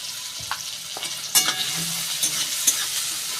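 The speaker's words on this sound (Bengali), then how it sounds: "এইবার একটু ভালো করে ভেজে নেব টমেটো আর পেঁয়াজ" Chopped tomatoes and onions fry in hot oil with a steady close sizzle, and occasional stirring scrapes sound through it. No one speaks.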